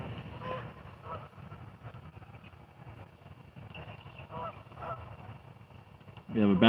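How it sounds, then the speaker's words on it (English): Geese honk at an urban lake at night, calling repeatedly at moderate distance over a low steady background hum, with a louder burst at the end. "Dang, geese."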